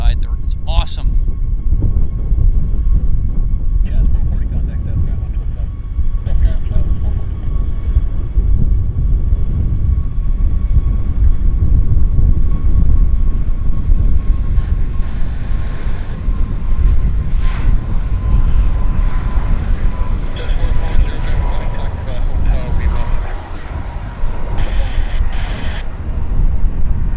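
A heavy jet passes at Vancouver Airport, a loud, sustained low rumble with a steady whine running through it, the noise holding strong for nearly half a minute amid occasional wind buffeting and a speaking voice.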